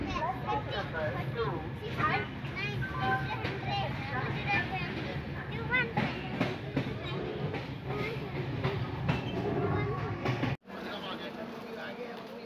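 Kumbh Express passenger train crossing the Barakar river bridge between West Bengal and Jharkhand, a steady loud rumble of wheels and carriage noise with children's voices and chatter throughout, then an abrupt drop near the end.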